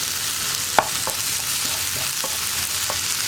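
Split green chillies, tomato and curry leaves fry in a pan for egg masala, a steady close hiss of sizzling oil with a few light scrapes and taps of a stirring spoon, no one speaking.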